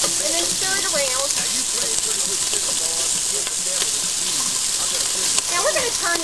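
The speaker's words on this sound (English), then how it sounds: "So I've taken the meat, and you want to carefully put it in there, and then stir it around." Meat sizzles and crackles steadily in a hot pan as it is stirred around, a continuous broadband frying hiss with scraping; a person talks over it throughout.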